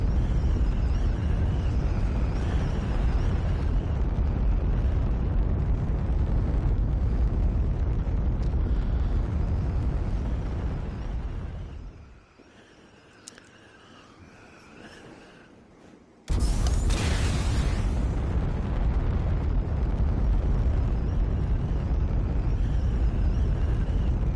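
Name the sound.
rocket firing on a glider in video game UltraWings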